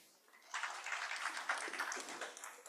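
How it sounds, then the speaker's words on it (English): Audience at a retail summit and awards ceremony in a full hall gives a warm round of applause, a soft wash of clapping that rises quickly and holds steady, fairly distant and faint. "The warm round of applause for them, please."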